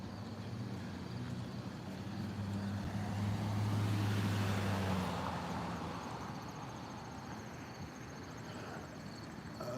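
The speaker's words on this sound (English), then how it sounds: "There's an engine sound right in this truck right in front of me." A truck engine runs nearby in the early morning as a steady low rumble that swells and fades, with traffic noise around it.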